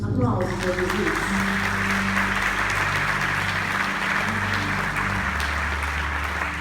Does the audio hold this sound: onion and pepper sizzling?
no